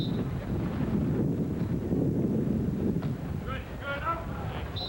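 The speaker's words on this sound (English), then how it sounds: "Another case of the wind just being too much" Wind buffeting the microphone at an outdoor AVP beach volleyball semifinal in Clearwater, a steady low rumble filling the whole stretch, with a commentator talking over it.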